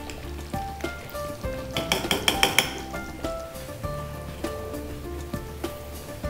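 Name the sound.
jaggery syrup poured into boiling coconut milk in pot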